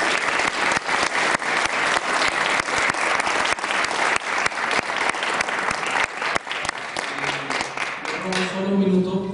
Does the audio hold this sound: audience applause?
yes